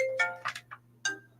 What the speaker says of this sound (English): hold on just a minute. I need to answer this phone.